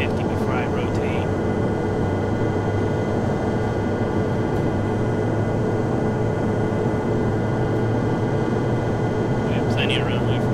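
Steady broadband engine roar of an aircraft rolling down the runway for takeoff in a flight simulator game, continuous and loud throughout with a faint intermittent beep near the start and end.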